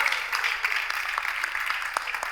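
A studio audience claps steadily throughout, a dense, even patter of hands with no voices heard over it.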